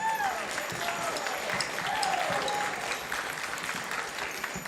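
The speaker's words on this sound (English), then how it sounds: "Let's give a round of applause to our student teacher this year, Mr. Mango." Audience at a school concert performance clapping for a student teacher, steady applause with a crowd murmur, while someone speaks over it.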